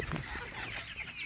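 Sonali breed hens cluck and murmur in a poultry shed, a soft, continuous flock chatter heard from inside the house, fairly quiet and steady throughout.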